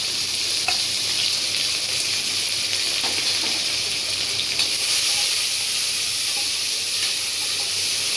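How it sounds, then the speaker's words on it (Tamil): Onions, green chilies and curry leaves frying in oil in a cooker for vegetable biryani, a loud, steady hissing sizzle with a few faint stirring clicks, continuous and close. "வெங்காயம், பச்சை மிளகா, கருவேப்பிலை கொஞ்சம் எதிரே போட்டுக்கலாம்"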